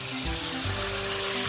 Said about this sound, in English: you're frying these first just to sort of get them brown